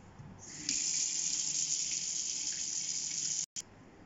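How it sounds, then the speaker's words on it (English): A sink tap runs steadily while a dish is washed under it. The water gushes loud and close, then cuts off abruptly near the end before a brief spurt, with no voices. "Let's wash the dishes, guys."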